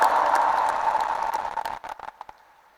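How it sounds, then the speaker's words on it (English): Cyclists and guests at a Naturopathy Day celebration at the World Peace Dome applaud together, a dense burst of clapping that thins into a few scattered claps and fades within three seconds. "can we, all the cyclists, have round of applause to NIN Pune"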